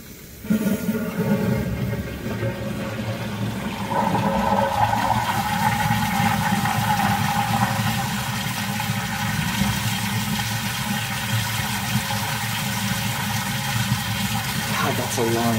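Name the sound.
long flush of wall-hung toilet with flushometer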